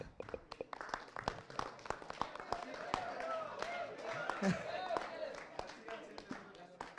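An audience at a lively fan meet claps in scattered, uneven bursts that go on throughout, sharp individual claps over a murmuring crowd, with a voice speaking over them.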